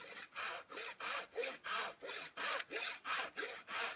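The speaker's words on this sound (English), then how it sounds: "and let the saw do the work" A hand saw cuts through wood molding in a miter box with about ten even back-and-forth strokes, a close, rasping rhythm with no talk.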